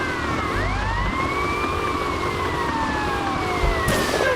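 Police car sirens in GTA Vice City wail in sweeping rising and falling tones over engine and street rumble, loud and continuous throughout with no talking.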